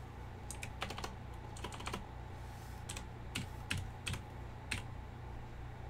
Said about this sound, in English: Well, I'm typing